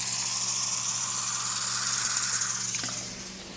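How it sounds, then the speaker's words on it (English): Water poured into a pot of hamburger goulash with sauce: a steady hissing, splashing stream that carries on for several seconds, then tapers off near the end, with no talk. "I'm going to add a cup of water into this."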